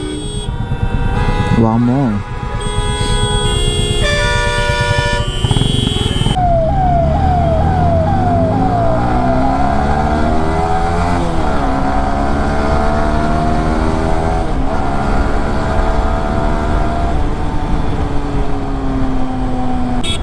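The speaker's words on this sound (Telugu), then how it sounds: "ఇప్పుడే చూడండి ఎంత ట్రాఫిక్ ఉంది." Dense evening peak-hour road traffic roars loudly around a rider on a motorbike, with repeated honking horns and a siren-like wail sweeping up and down, while someone speaks briefly over it.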